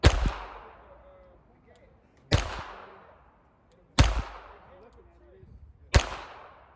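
Four sharp pistol shots from a Ruger Mark IV 22/45 crack out at uneven intervals about two seconds apart, each one loud and close with a short decaying tail, and people talk faintly between them.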